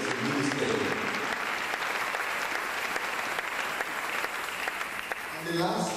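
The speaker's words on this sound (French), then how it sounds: "Put our hand together for the leader of this ministry." A church congregation claps for the leader of the ministry, sustained dense applause from a large crowd running throughout, with voices calling out over it.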